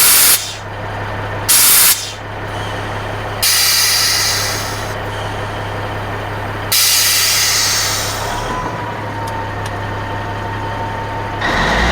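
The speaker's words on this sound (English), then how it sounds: "And there's that brake saver valve." A brake saver valve on a 1985 Freightliner FLC truck releasing air, loud broadband hissing bursts cutting in and out several times, with a steady engine hum underneath.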